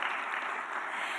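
An audience at an awards celebration claps in a steady, even wash of applause, moderately loud and continuous across the short moment, with no distinct voices.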